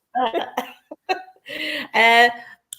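A few short coughs, close and loud, followed by a longer raspy throat-clearing cough burst.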